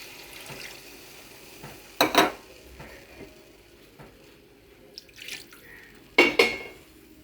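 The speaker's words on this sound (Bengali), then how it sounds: "এবারে জলটা দিয়ে দিলাম।" Water poured into a pan of cooking Bengali parshe fish curry with tomato, heard as two short splashing bursts against a faint kitchen background.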